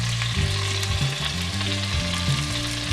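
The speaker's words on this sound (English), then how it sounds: "Now you wanna make sure that the oil's hot so you get that sear." Baby back ribs searing in hot oil, a loud, dense, continuous sizzle close up with faint stirring clatter underneath and no voices.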